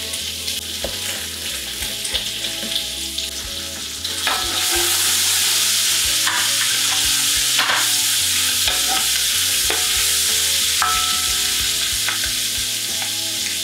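Meat browning in a pan for red beans and rice gives off a loud, continuous sizzle that swells after a few seconds, with scattered scraping and stirring knocks and no talk.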